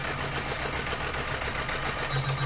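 An embroidery machine running a basting design to hold a zipper pouch with a clear vinyl front in place, a steady fast mechanical whirr of stitching with a hum that rises near the end.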